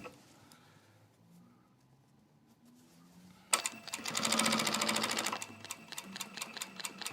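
A sewing machine top-stitches a shirt sleeve, kicking in abruptly after a quiet stretch and running loud and close with a fast, even mechanical chatter, then continuing in shorter rhythmic bursts.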